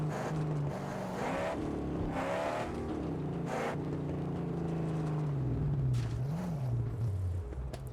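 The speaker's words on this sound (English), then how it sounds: "The Magnum Opus's new engine is mighty. It sounds mighty" Heavy engine of the Magnum Opus car in the Mad Max video game, a steady loud rumble with rising and falling pitch as it revs and drives, continuous throughout with a few sharp clanks over it.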